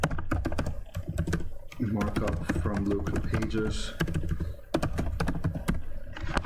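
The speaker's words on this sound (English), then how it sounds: "it's typing too fast." Fast computer-keyboard typing runs throughout as a dense rhythm of key clicks, sitting under a person's steady speech.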